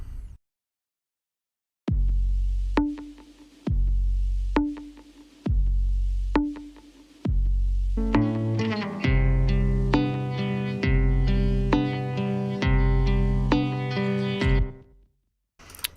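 A punchy analog drum machine beat starts alone in steady loud hits, then an electric guitar joins with layered chords over the looping rhythm.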